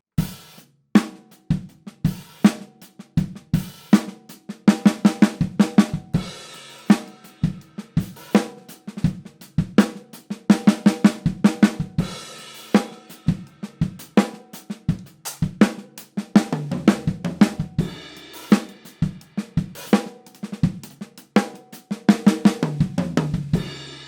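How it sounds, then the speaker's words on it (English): A drummer plays fills around the kit, beginning on the snare and moving freely across the drums with the kick drum, in sharp, punchy bursts of hits separated by short pauses over about twenty seconds of solo drumming. "I'll orchestrate it around the drums a little bit, starting on the snare, but then just getting a bit freer with it."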